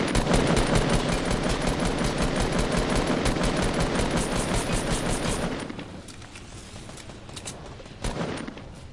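A video game minigun fires as one dense, continuous roaring burst for about five seconds, then cuts off. Quieter scattered shots and rattles follow, and a single sharper crack lands near the end.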